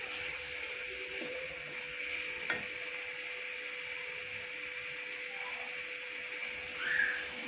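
A desi-style chicken and bottle gourd (kadu) curry with chopped coriander is stirred in a pan: a faint, steady simmering sizzle with an occasional soft scrape of the spoon under a low, constant hum, and no voices.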